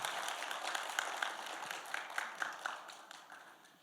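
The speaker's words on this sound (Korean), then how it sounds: "다시 한번 박수 부탁드립니다." Applause from an audience at a public lecture, fairly faint and distant, a scattered patter of claps that rises and thins over a few seconds.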